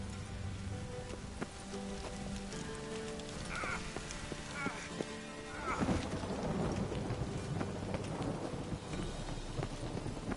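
Steady rain hisses throughout with low rumbles of thunder in The Witcher 3 on PS5, a dense wet wash that swells louder in the second half, with faint clopping in the background.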